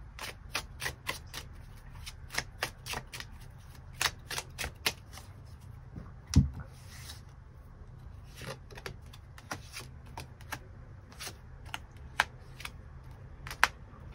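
Tarot cards are shuffled and drawn in a quiet room: a string of crisp, close flicks and snaps, grouped in quick bursts with short pauses between them, plus one firmer tap midway.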